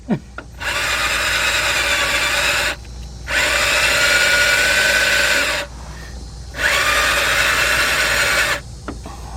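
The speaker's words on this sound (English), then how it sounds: "drilling that bolt out of there" Three long bursts of a power drill whirring steadily at close range, drilling out a broken thermostat bolt on a 2006 Jeep Grand Cherokee 3.7, separated by short pauses, with no talking.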